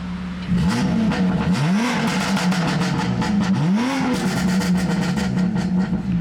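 A 700 hp BMW F80 M3 running on E85 roars through a loud aftermarket exhaust, with repeated rising revs and a heavy droning idle between them, close and unbroken.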